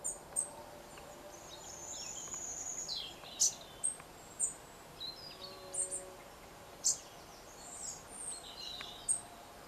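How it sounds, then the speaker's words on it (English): Bright, high chirping calls of robins repeat at irregular intervals over a quiet morning outdoor background, fairly distant in treetops, with faint insect-like hiss underneath. "the birds singing. There's a little robin up there, look, on top of the tree."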